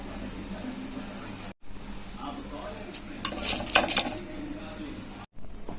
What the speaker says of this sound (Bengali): এইভাবে আমি সব কটা ভেজে নেবো